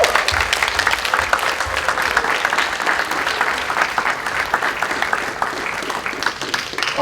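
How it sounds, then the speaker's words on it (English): An audience at a startup weekend event in Varna applauds, a steady, full-room clapping that holds its strength for several seconds with no voices over it. "so applause for Petya."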